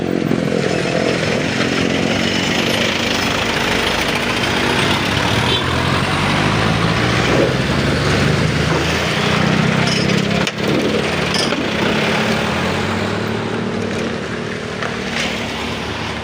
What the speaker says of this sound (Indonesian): Setiap hari ada ribuan kendaraan roda 2 dan roda 4 yang melintas di jalan ini.